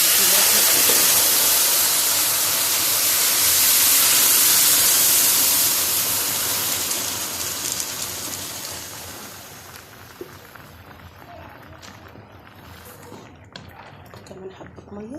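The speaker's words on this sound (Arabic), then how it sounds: "مفيش ميه سخنه عادي، هننزل بميه ساقعه." Cold water poured into a hot cooking pot of fried macaroni and sausage gives a loud, steady hissing sizzle that fades after about nine seconds into quieter bubbling and faint clinks.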